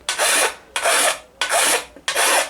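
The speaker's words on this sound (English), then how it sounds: "Filing these back isn't cheating." A hand file rasps along the edge of a steel armour thigh plate in four long, even strokes, each a loud, close scraping rasp separated by short pauses.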